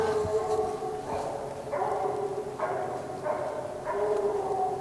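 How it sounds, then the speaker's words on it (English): Two different hunting dogs barking and baying on a raccoon hunt, with about six drawn-out, howling barks in an uneven rhythm, heard from a moderate distance over a steady outdoor background. "That's two different dogs barking."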